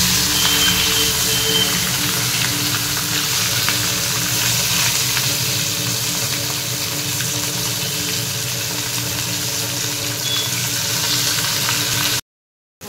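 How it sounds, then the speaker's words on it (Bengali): Fish and a mix of flat beans and potato fry in hot oil in home kitchen pans, a dense continuous sizzle that holds steady for about twelve seconds, then cuts off abruptly. "এই দেখো মাছ ভাজতে দিয়ে দিয়েছি, আর এখানে আমার শিম আলু ভাজা হচ্ছে।"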